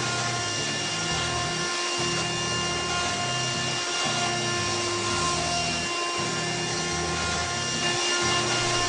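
CarveWright CNC router carving wood, a steady high whine with a grinding, chattering cut that pulses in rhythmic passes as the bit moves across the workpiece, close and continuous with no talk.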